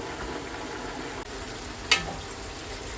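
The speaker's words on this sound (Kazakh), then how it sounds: "Сәбізді кәдімгі палауға қызартып әдемілеп қуырамыз ғой" Carrots fry in a pan until browned, as for pilaf, with a steady, moderate sizzle running throughout and a brief sharp clink near the end.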